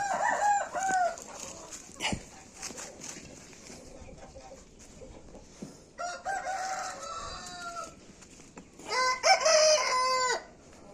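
Newly hatched chicks peep in high, thin bursts, with short chirping runs starting and stopping in a few clusters, close by and moderately loud in a quiet setting.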